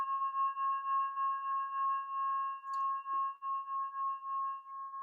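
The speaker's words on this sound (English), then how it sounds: "So this is like a trigon" A trigon instrument sounds a steady, sustained pure tone, with a few faint upper partials layered above it. It stays even and unbroken for the whole stretch, with only a couple of tiny incidental clicks.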